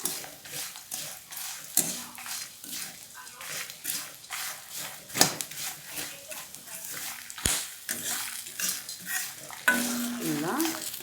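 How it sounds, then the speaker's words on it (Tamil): Drumstick leaves and curry leaves sautéing in a pan, with constant scraping and stirring of a utensil against the metal over a soft sizzle, loud and close with no talk. "கருவேப்பிலை போட்டிருக்கேன் கூட, நல்லா வதங்கின்னு இருக்கு பாருங்கள்"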